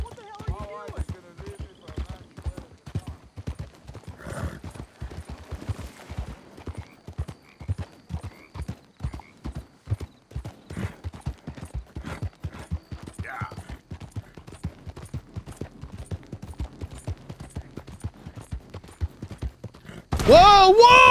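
A horse galloping with rapid, steady hoofbeats in the video game Red Dead Redemption 2, a long even rhythm close up, with a burst of louder noise and a whinny-like sound at the very end.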